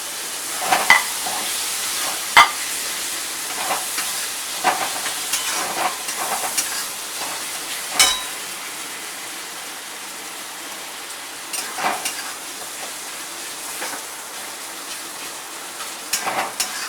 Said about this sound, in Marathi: कांदा भाजलेला आहे, मी टमाटर टाकते.